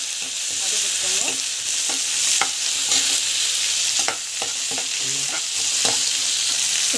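Curry leaves and coriander sauté in a pan with a steady, close sizzle and frying hiss, punctuated by repeated spoon-stirring scrapes and taps, and no talk.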